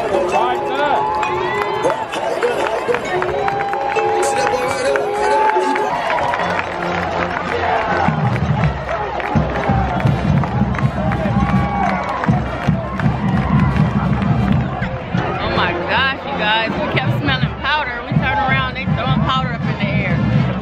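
A crowd cheers and makes noise, with rising shouts, whoops and babble of many voices, loud and continuous, mixed with nearby talk and footsteps.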